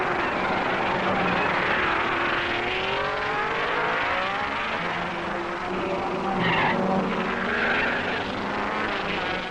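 1961 Formula One race cars at the Monaco Grand Prix street circuit, engines droning and whining as they pass, a steady roar with pitch sweeps that rise and fall as cars go by, with no talking.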